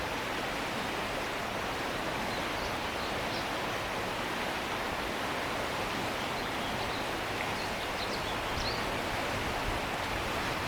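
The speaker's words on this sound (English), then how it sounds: "Now I hear the sound of a river" Rushing water of a river outdoors, a broad steady roar that fills the scene without a break, loud and unbroken like a stream or falls.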